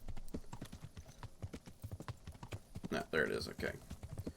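Horse hooves clip-clopping at night in the medieval game Kingdom Come Deliverance, a steady close rhythmic patter with someone talking briefly over it.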